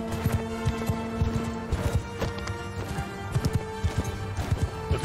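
A horse gallops in Mount & Blade II: Bannerlord, steady rhythmic hoofbeats thudding throughout over a battle din with a low hum, no clear talk.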